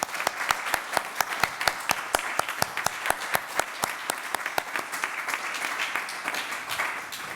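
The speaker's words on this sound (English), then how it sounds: "join me in giving them a wonderful round of applause" An audience at a library children's area dedication gives a round of applause. Strong, evenly spaced claps stand out at first, and the crowd applause thickens into a steady wash that continues to the end.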